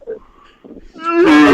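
A person imitates cows mooing at night, a short low call and pause building into a loud, drawn-out harmonic moo that swells and holds to the end.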